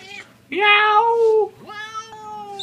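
A cat meows twice up close: a long, loud drawn-out meow, then a shorter, softer one after a brief pause.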